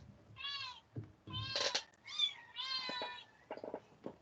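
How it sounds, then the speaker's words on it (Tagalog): A kitten meows repeatedly indoors, several high, clear mews in quick succession with short pauses and faint shuffling between them, close to the microphone and fairly quiet. "Naglalakad yung kuting eh."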